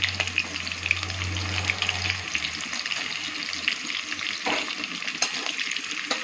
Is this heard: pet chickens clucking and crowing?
no